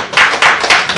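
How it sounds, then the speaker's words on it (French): Women in a conference hall applaud themselves, a loud, dense burst of clapping from a small group, close and steady with no talk. "Moi, je veux que les femmes qui sont dans la salle s'applaudissent"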